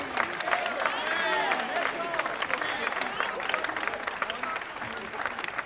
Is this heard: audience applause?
yes